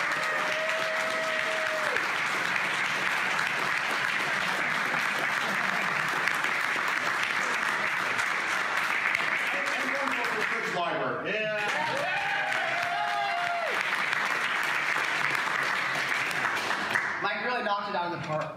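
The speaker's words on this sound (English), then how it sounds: "let's just round of applause for Michael Curtis." Sustained audience applause at a gaming convention seminar, dense clapping from a packed room that runs on while a few voices and whoops cut through in places.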